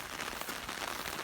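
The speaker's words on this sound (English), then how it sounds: "It's actually still raining right now," Steady, even patter of rain falling after a heavy thunderstorm that dropped about two inches, a continuous broadband hiss with no gaps and no talk.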